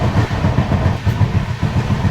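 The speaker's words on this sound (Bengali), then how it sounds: "আর তার মাঝখান দিয়ে বেশ ভালো গতিতে ট্রেন ছুটে চলেছে" The Ranchi to Howrah Shatabdi Express rushes along its tracks at good speed through dense forest, a steady low rumble with a rhythmic clickety-clack of wheels heard from inside the train.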